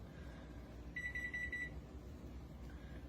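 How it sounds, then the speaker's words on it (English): A kitchen microwave gives a short burst of rapid electronic beeps, faint against low background hum while chicken and dumplings are being made. "My microwave's beeping at me"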